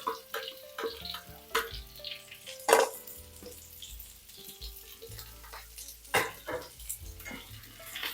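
Three medium onions sizzle in hot oil, a soft, steady frying hiss punctuated by clinks and stirring knocks from a utensil, quiet and close, with no talk over it.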